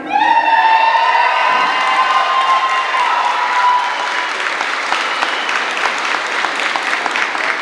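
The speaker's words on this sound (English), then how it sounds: "we are cheering for you" A high school graduation crowd applauds and cheers loudly and steadily throughout, with whoops and shouts rising over dense clapping that swells into a more textured, rhythmic ovation toward the end.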